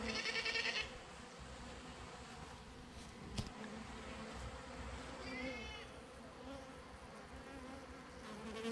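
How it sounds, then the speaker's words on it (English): Honeybees and yellow jackets fighting outdoors make a steady close insect buzz throughout, with a brighter, louder whine at the start and fainter wavering tones later. "That honeybee got that yellow jacket."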